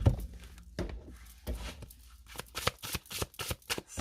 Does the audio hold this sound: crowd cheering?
no